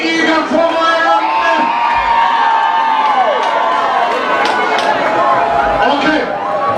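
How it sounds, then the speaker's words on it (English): A boxing crowd at an Ireland–Uganda charity fight cheers and shouts for Irish boxer Kenneth Egan, a loud, continuous roar of many voices with whoops rising above it. "A big applause to EGAN from Ireland."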